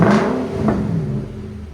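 A 2020 Nissan Armada 5.6L V8 with a Magnaflow Magnapack exhaust blips its throttle in a short, loud rumbling rev that rises and then settles back, heard close up with no voices.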